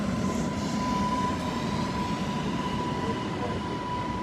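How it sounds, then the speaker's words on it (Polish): An Impuls 36WE electric multiple-unit train pulling into a station in southern Poland, a steady loud rumble with a sustained electric whine holding level throughout, no voices. "Tutaj wjeżdża impuls 36 WE"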